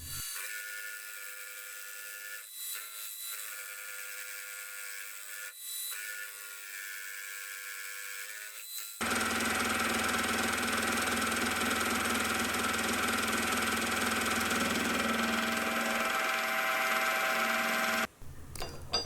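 Offcuts being machined into metal jaws for a massive tap wrench: a motor hums with faint tonal whine for several seconds, then a loud, steady cutting roar takes over until stopping abruptly near the end.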